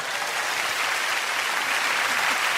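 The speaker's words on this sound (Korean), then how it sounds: "여기 박수 좀 부탁합니다" Audience applause in a Korean studio talk show, steady dense clapping from a live crowd filling the whole stretch, loud and even with no pauses.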